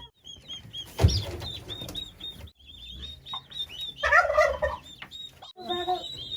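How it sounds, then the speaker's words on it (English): Several turkeys gobble in loud, bubbling bursts, with a chorus swelling midway, over background farmyard noise. "then we got turkeys everywhere"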